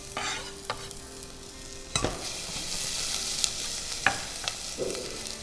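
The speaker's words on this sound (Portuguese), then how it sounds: "vamos então começar refogando nossos aromáticos" Garlic, ginger and rosemary sauté in olive oil with a steady sizzle broken by several sharp spoon clacks and stirring scrapes in the pot, close and with no talking.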